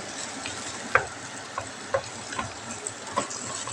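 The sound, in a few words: beef frying in a pan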